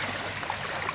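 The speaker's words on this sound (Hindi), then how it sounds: "देखें कैसे शोर कर रहा है पानी।" A clear stream rushes over stones in a continuous broadband wash, close and steady for a brief moment.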